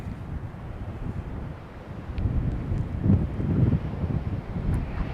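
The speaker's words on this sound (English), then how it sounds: "If you guys are hearing a lot of wind noise, that is our microphones." Gusty wind buffeting the microphones at an outdoor plane-spotting spot beside Charlotte Douglas International Airport, a continuous low rumbling roar that swells and eases with the gusts.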